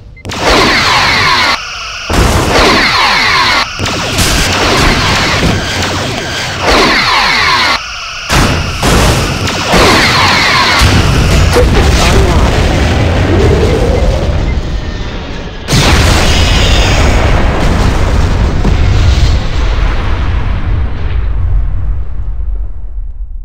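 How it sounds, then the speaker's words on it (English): Starship explosions in a Star Trek space battle game, Constitution against Excelsior: loud repeated booms and crackling blasts in quick bursts, then a long roaring, rumbling detonation that trails off. "The ship has been destroyed."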